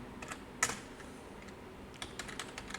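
Someone types a few words on a computer keyboard with soft, scattered keystrokes. The key clicks come in short bursts and stay faint, heard up close.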